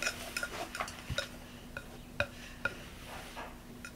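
Soft butter being mixed for dragibus cookie dough, with a spoon scraping and clinking against a bowl in a run of irregular light taps and scrapes, close and fairly quiet, with no talking.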